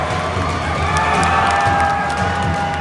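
A Muay Thai fight crowd roars in a steady, loud, dense wall of cheering and shouting that holds at the same level throughout, with no single voice standing out.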